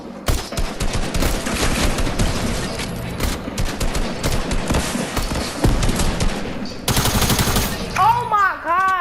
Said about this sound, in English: Somebody is still shooting at us.